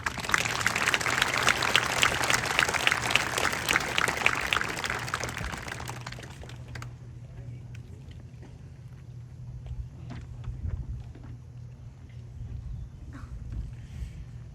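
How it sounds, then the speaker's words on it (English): Audience applause at a high school graduation ceremony, a dense steady patter of many hands clapping that runs for about six seconds, then stops abruptly and leaves quiet room hum with faint scattered noises. "please join me in applause as they come to the stage and receive a plaque for their achievements"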